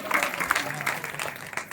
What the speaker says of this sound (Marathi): सगळ्यांनी जोरदार टाळ्या वाजवायच्या